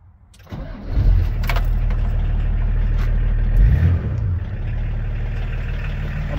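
A 1994 VW LT35E van's 2.4 diesel engine cranks and catches after half a second. It revs briefly, then settles into a loud, steady, low diesel clatter at idle, close up, with a small blip of revs midway.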